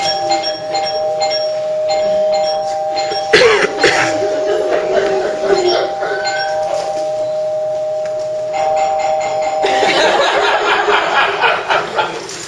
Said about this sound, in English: I rang the doorbell in the stick house.